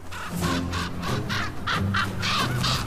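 Several crows caw loudly and close by, giving harsh repeated calls in quick succession with no other sounds.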